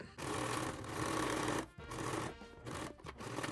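A sewing machine stitches down bias tape on upcycled clothing in several close bursts of whirring, broken by short pauses between runs.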